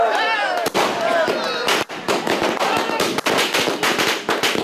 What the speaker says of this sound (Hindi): और अब आप देखिए यहाँ बीजेपी दफ्तर में जोरदार आतिशबाजी।